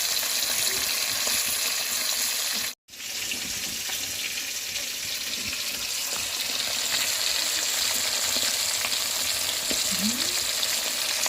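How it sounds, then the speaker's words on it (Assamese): Fish coated in turmeric, salt and spices fries in a pan with a loud, steady hiss and crackle that runs throughout, broken only by a brief silent gap near the start. "এতিয়া ফ্ৰাই কৰা হ'ব"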